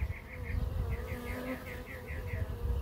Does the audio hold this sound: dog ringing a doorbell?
no